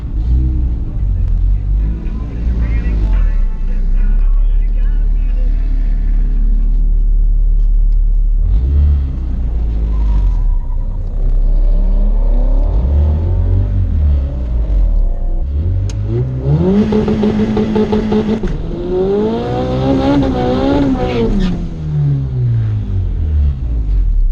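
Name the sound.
B20 turbo car doing burnout and launch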